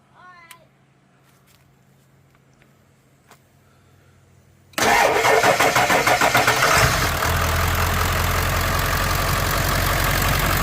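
A Ford 7.3 Powerstroke diesel engine, running poorly on low oil, cranks and fires after a quiet wait with faint clicks, then settles into a loud, close, rough clattering idle.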